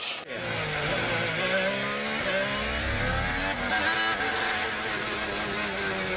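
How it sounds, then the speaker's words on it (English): A Formula 1 car with a jammed gearbox and lost hydraulic pressure revs its engine in a continuous high-pitched whine, with an abrupt cut near the start, then a steady, fairly distant drone as the pitch shifts. "you can hear as he shifted up Sounds like it's jammed in gear"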